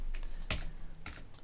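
Computer mouse clicks on a desktop, a few close, crisp, separate taps in quiet surroundings.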